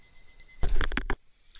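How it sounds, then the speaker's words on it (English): An alarm sounds close by, a short dense burst of beeping lasting about half a second over faint steady tones, then stops. "there's my alarm"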